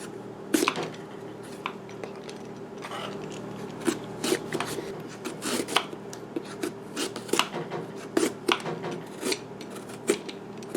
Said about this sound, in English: You're just going to take your vegetable peeler and go all the way down, and hopefully it'll peel very nicely.